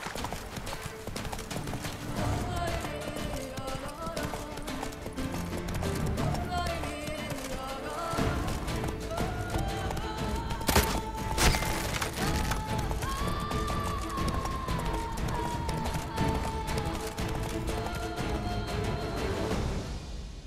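Roach, a horse in The Witcher 3: Blood and Wine, gallops with steady rhythmic hoof clip-clops over game music, occasional whinnies and ambient sound, running continuously near and fairly loud throughout.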